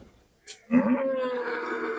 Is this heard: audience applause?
no